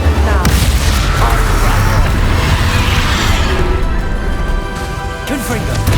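A Bombarda explosion spell in Hogwarts Legacy erupts in a heavy, loud boom amid continuous combat crashes and rumbling, with voices calling out during the fight.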